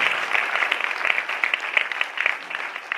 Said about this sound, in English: I want another round of applause just for Juan.